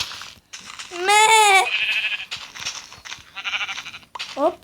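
A sheep bleats once, loud and wavering, followed by game-like background sounds and a short second bleat near the end.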